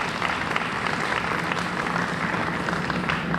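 An audience at a faculty and staff appreciation event applauds, giving a steady, full wash of clapping throughout with no voices over it.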